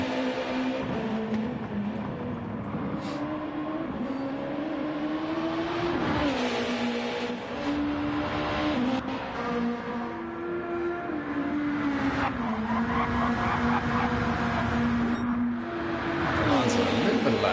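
Race cars in Gran Turismo 7 at the Nürburgring 24h start their push laps, engines holding a steady high drone with gear-shift pitch changes throughout, under continuous commentary.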